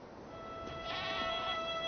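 A single sheep gives a steady, fairly faint bleat in an animated film about herding in Tibet, rising slightly and sustained throughout.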